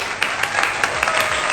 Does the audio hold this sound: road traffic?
no